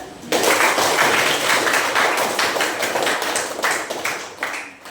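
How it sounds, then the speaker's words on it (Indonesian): A school class claps together in a sudden, dense burst of rapid hand claps that fills the room, holding steady for several seconds before tapering off. "Tepuk tangan."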